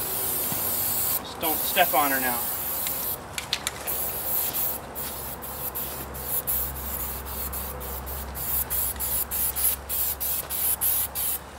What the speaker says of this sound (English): Spray lube.